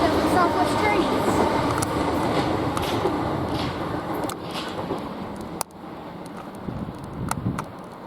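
A British Rail Class 730 train passing Queenstown Road station on the South West Main Line, with a loud rumbling roar and clattering wheels that fade slightly after a sharp clunk, while people talk nearby.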